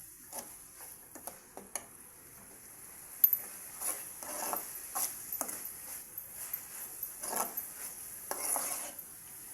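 Sesame seed curry being stirred in a pan to keep it from sticking, with scattered light scraping and tapping clicks of a utensil against the pan, fairly faint, irregular in rhythm, no talk.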